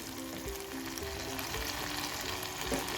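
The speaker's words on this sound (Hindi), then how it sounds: "अब हम इसको भून लेंगे" Chicken biryani masala fries in ghee with a continuous dense sizzle and faint bubbling, steady and close, with light low thuds of stirring and no speech.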